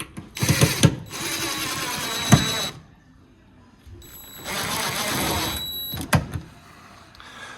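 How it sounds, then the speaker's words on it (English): Two bursts of a power screwdriver whirring as screws drive a KitchenAid microwave into a kitchen cabinet, each a couple of seconds long with clicks between, close and moderately loud. "the actual final step is screwing the microwave into the cabinet"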